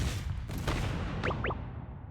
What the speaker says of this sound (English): Explosion? But why?